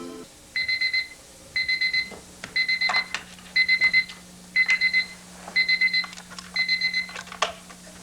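An alarm clock rings in a quiet room, giving seven or eight evenly spaced bursts of rapid high-pitched beeping, each burst lasting about half a second, clear and fairly close, with no voices.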